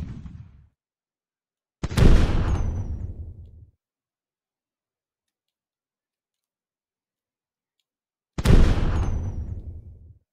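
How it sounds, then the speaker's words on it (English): Tanks blowing up in the Tiny Tanks video game: three loud booming blasts, one cut off at the very start, then two full ones each trailing off over a second or two, separated by silence. "Then you have to blow up the tanks."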